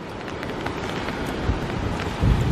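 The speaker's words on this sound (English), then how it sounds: "it is getting quite windy" Strong wind at a beach on Pleasure Island, North Carolina during Tropical Storm Colin roars as a continuous broadband rush, with buffeting gusts growing louder toward the end.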